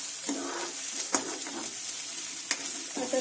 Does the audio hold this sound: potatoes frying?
yes